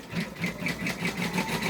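A Brother embroidery machine stitching an Easter cloud design, a fast rhythmic whirring chatter of needle strokes, steady and close with no talk.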